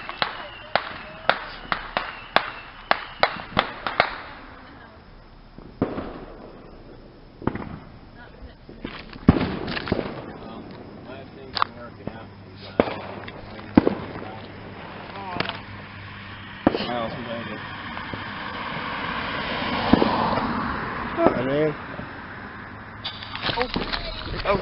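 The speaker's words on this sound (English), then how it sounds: "That's the end of the fireworks." Consumer fireworks fired from a launch tube burst in a rapid string of sharp cracks and bangs, then several louder, spaced explosions follow, with people talking between the blasts.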